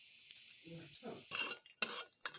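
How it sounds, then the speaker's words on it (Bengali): Dried chilli, cardamom and cinnamon sizzle in hot oil, with short bursts of frying crackle and the clink of a stirring spoon against the pan, quiet and close. "এখানে আমি একটি শুকনো লঙ্কা ও এলাচ ও দারচিনিগুলোকে ফোড়ন দিয়ে নিচ্ছি"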